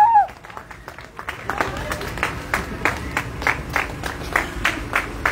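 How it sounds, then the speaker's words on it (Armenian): A crowd claps at an outdoor campaign rally in Vagharshapat, a burst of scattered applause that settles into rhythmic, steady clapping, with a brief voice at the very start. "ծափարություններ։"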